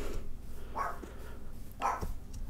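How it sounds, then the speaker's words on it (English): A dog barks twice, about a second apart, at moderate volume and slightly distant, over faint background noise. "Sorry for the dog barking"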